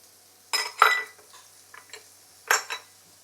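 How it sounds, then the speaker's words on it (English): A utensil clatters against a pan while shallot, garlic, carrot and shiitake mushroom cook in oil, with a few separate scrapes and clinks spaced over a quiet background. "we are going to add in the shallot and also garlic, carrot, shiitake mushroom"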